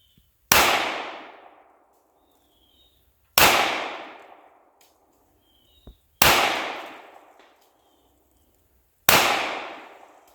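Four loud, sharp gunshots from a SCCY CPX2 9mm semi-automatic handgun fired at a wooden target outdoors, evenly spaced about three seconds apart, each with a decaying echo tail.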